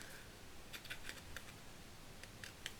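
Paper sticker being cut with scissors while making a shabby-style Paris card, a few crisp, brief snips scattered over low steady background noise, close and faint.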